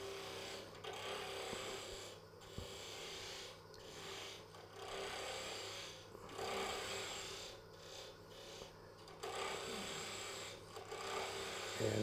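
A wood lathe spinning at roughly 2,500 rpm while a gear shift knob blank is trued up, giving a steady rasping, scraping whir that runs throughout with brief rhythmic dips as the tool lifts and returns.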